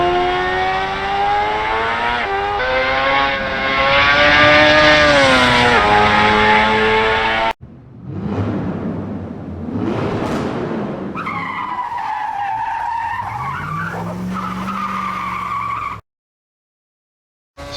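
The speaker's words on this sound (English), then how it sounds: "I'll shut up now so you can listen to the V8 for a second." A V8 race car engine on a hot lap in Assetto Corsa, loud and close, revving high through the gears with rising and falling pitch, then cutting out briefly before roaring back and falling silent near the end.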